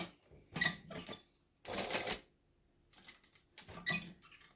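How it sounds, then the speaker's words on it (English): A sewing machine stitches a pivot and backstitch, giving several short, quiet bursts of stitching separated by pauses. "Line that up, pivot, and then backstitch like that."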